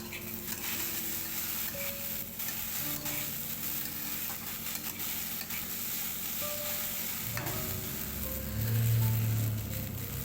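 Okra and potatoes fry in a pan, giving a steady, fairly loud sizzle with scraping stirs and occasional utensil clicks throughout, alone without talk.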